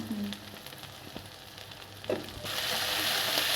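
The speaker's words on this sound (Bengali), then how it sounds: "এখন একটু এটাকে কষিয়ে নেব।" Rohu fish curry with coriander powder, cumin powder, turmeric and salt sizzles softly in a pan, a quiet steady frying hiss that swells louder and brighter near the end.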